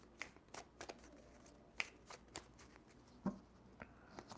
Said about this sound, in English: I'm going to finish shuffling the cards.